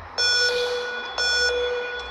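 Two loud electronic start-gate countdown beeps, each with a ringing tone, sound about a second apart.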